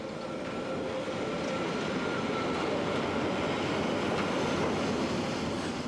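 A Rhaetian Railway mixed freight train in Switzerland rumbles past steadily and loudly, a dense continuous roar of wheels and wagons with no break and no voices.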